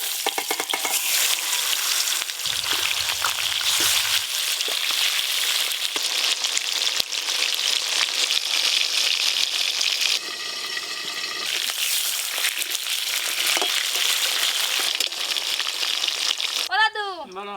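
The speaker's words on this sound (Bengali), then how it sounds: "যা মাছ আছে এবারে একসঙ্গে ভেজে নেব।" Fish frying in hot oil in a pan, a dense continuous sizzle that stays loud and steady throughout, with brief stirring noises near the end.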